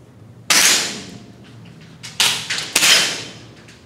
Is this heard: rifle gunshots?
yes